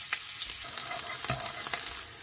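Garlic and shallot frying in oil in a pan give a steady, close sizzle, with light stirring clicks scattered through it.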